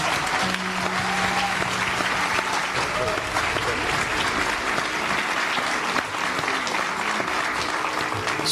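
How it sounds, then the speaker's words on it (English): Sustained audience applause after Diya's Arangetram dance debut, a thick, even wash of clapping from a large crowd with some voices and a faint tone mixed underneath. "one more round of applause for Diya"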